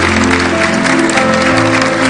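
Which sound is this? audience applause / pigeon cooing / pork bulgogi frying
audience applause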